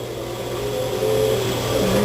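A toy car makes a steady electronic engine-like whir with a droning tone that rises slightly in pitch, fairly close and continuous, with no talking.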